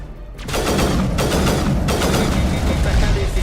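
Repeated sniper rifle fire in the science-fiction shooter Mass Effect, with several loud shots sounding in quick succession over a sustained, dense layer of game noise.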